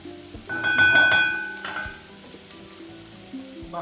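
Garlic cooking down in a pan gives a steady low sizzle and frying hiss, with stirring scrapes and a faint tonal hum running through the background.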